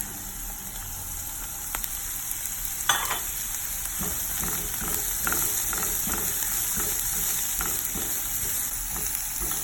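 Garlic, thyme and oregano sizzle steadily in a pot for a chicken stew, a constant close frying hiss with occasional scrapes and stirring clicks, no talking.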